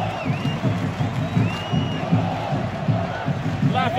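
Football stadium crowd at a Brazilian Série B match, Paysandu versus Novorizontino at the Curuzu, roars and cheers steadily in a dense, continuous wash, with scattered whistles and shouts rising over it.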